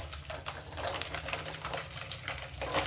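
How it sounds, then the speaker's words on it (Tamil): Peeled garlic cloves frying in hot sesame oil for a pickle, a steady crackling sizzle with bursts of bubbling spatter, close but fairly quiet, with no talk. "இப்போ நம்ம நல்லா உரித்து வச்ச பூண்டை போட போகிறோம்."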